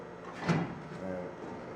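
A drawer on a Stanley toolbox opens or closes with a brief sliding clatter, close and moderately loud, with a faint voice in the background.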